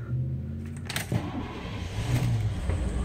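A car with a 5-liter engine and about 90,000 miles cranks and starts up close by, then settles into a steady idle with slight revving.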